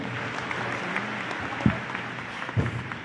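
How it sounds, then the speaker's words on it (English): Steady crowd applause for the Philippine President at a Marine Corps anniversary event, a sustained wash of clapping with a couple of louder thumps. "Let us again give the President a round of applause."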